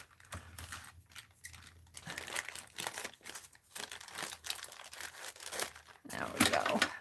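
Taped mail packaging is torn and crinkled open close by, with repeated ripping and rustling bursts that grow louder toward the end, while a person talks over it.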